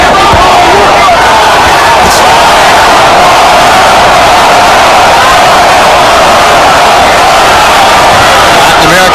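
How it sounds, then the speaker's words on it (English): A loud, continuous roar from a boxing arena crowd at the Floyd Mayweather vs Gregorio Vargas fight, the dense crowd noise filling the whole stretch without a break. "second segment of the crowd chanting Goyo, Goyo, Goyo"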